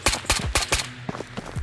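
Rapid gunfire in the VR shooter Ghosts of Tabor: several sharp, loud shots in quick bursts over the first second, followed by lighter, scattered clicks and thuds, with no talking.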